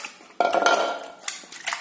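Goat meat is stirred in a pot of rinsing water, giving a short burst of metallic clatter and scraping against the pot, with a few lighter knocks trailing off.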